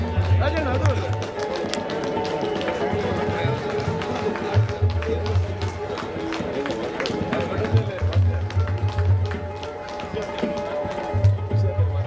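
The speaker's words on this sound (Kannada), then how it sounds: "ಜೋರಾದ ಚಪ್ಪಾಳೆ" A temple festival audience at a Sri Ayyappa devotees' Brahma Kalashotsava in Dombivli breaks into dense, sustained clapping. The applause runs under a low droning hum and some voices.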